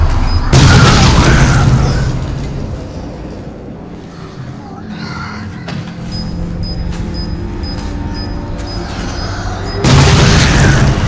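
Grenades explode in the horror game Resident Evil 7: a heavy booming blast at the start and another near the end, with a lower rumbling tail between them.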